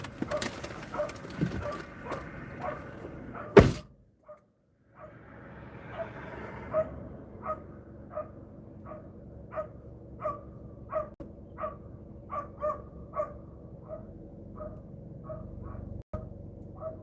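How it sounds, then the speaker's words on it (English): A puppy barks repeatedly from indoors behind a door, short sharp yips coming at irregular intervals, fairly faint, with a car interior hum and a louder thump early on. "I hear the puppy."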